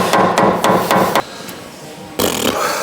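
Hammer striking a nut on an old Land Rover steering damper, a run of loud metallic taps in quick rhythm, a pause, then another burst of blows close by.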